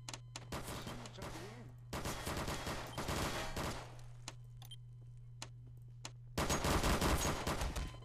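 Rapid bursts of automatic gunfire ring out in Garry's Mod DarkRP, several loud rattling volleys separated by quieter gaps with a steady low hum underneath, while a voice talks briefly between shots.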